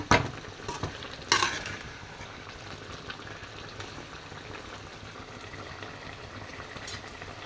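A pot of biryani mixture bubbles and simmers while a spoon scrapes through it, a couple of sharp clanks early on, then a quiet steady boiling hiss.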